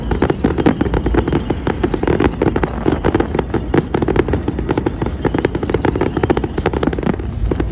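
Fireworks over the Chao Phraya River in Bangkok pop and crackle in a dense, continuous barrage of loud bursts with no pauses.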